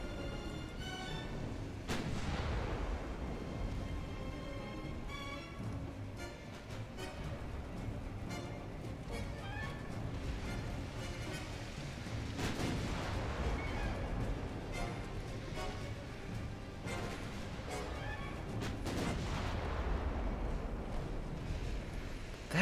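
Naval gunfire in the warship game Ultimate Admiral Dreadnoughts, with shells striking the player's ships: repeated loud booms and impacts rolling over a continuous dense rumble of battle and ship noise, no voices.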